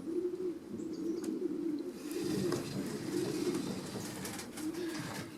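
Pigeons cooing in a breeding loft of racing cocks and hens, a steady low murmur of overlapping coos close by, with faint flutters and scattered brief chirps throughout.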